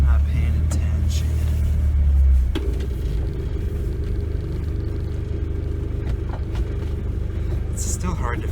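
A 1986 Ford Escort diesel wagon on a test drive, heavy low engine rumble heard from inside the car, loud at first then settling into a steadier drone, with a few knocks and faint rattles.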